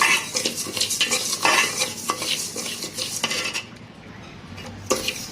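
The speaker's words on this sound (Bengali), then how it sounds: "দিয়ে একটু হালকা করে নেড়ে ছেড়ে নেব" Lentils and rice stirred dry in a hot pot, a spoon scraping and clinking against the metal in quick repeated strokes, with a faint sizzle underneath and no talk.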